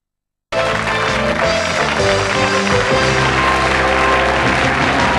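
An audience claps for new contestants at a comedy panel show, with dense, sustained applause that starts abruptly and fills the room.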